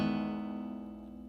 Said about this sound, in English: Here's my guitar. It's an acoustic guitar.